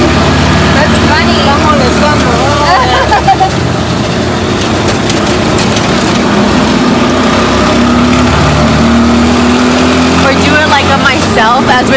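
The small engine of a tuk tuk drones steadily and loudly throughout a ride in San Lucas Tolimán, with wind and road noise. People talk over it.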